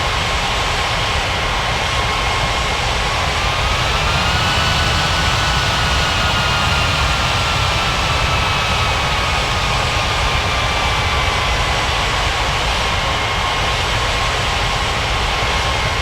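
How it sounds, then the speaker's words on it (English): Airliner jet engines roar loudly and continuously in an air traffic control game at White Center Airport, a steady wide-band rush with a slowly shifting whine as the aircraft passes. "Emirates 1918, clear to land runway 14"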